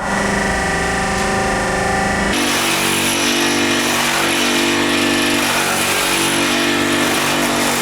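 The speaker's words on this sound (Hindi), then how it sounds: "अभी आपने देखा कि हमने स्लीपर को कैसे एम्बोज किया था" A slipper embossing machine runs with a loud, steady mechanical hum and whine, shifting to a harsher, broader droning roar partway through, with no voices.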